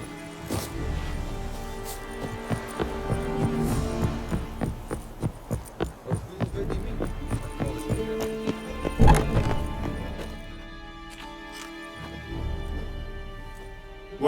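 Roach, Geralt's horse in The Witcher 3, trots at a steady pace with rhythmic hoof clip-clops. The hoofbeats are fairly near and sit over a low background hum, with a louder thump partway through.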